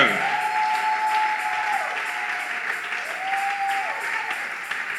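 A congregation applauding at a church service, steady moderate clapping for a few seconds with a sung or held voice line drifting over it.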